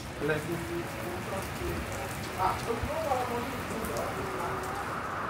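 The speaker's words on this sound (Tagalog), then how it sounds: "Grabe yung ulan, oy, mas lalong lumakas." Heavy rain falling steadily outdoors, a dense continuous hiss of drops on surfaces with a few faint voices and sounds from under a shelter mixed in.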